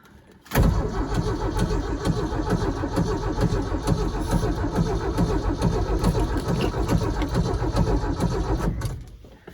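A vehicle engine cranks and catches with a sudden loud burst, then settles into a steady, throbbing idle that runs for several seconds before cutting off abruptly near the end.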